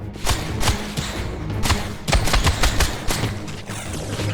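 Enemy gunfire in the Legacy of Kain: Defiance Remastered video game, heard as a rapid string of sharp, loud shots in uneven bursts, close and dense, with no talking over them.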